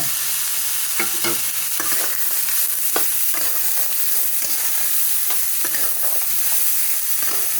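Green peas being stirred into a sizzling masala for cauliflower curry, with steady frying hiss and repeated scraping, clinking strokes of the spoon against the pan, close and moderately loud with no talking.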